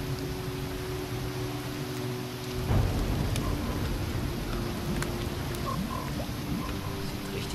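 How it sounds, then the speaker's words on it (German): Steady rain falls in the video game Risen, a dense, even hiss that fills the whole stretch with no voices, swelling slightly partway through. "Das Wetter ist ja leider nicht sehr schön. Es regnet."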